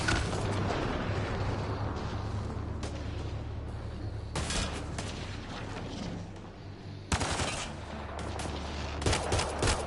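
Pistol fire in the sci-fi shooter Mass Effect: Andromeda, sharp repeated shots crackling over a dense, continuous bed of combat noise, with louder bursts standing out near the middle and end.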